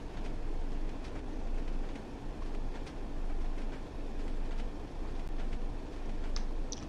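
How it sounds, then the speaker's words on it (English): A BR Class 101 diesel multiple unit coasts with throttle off as it slows on a Northern Trans-Pennine line, its steady low rumble of wheels on rail heard from inside with faint rhythmic clicks throughout. "I will throttle off and let the train decelerate by itself"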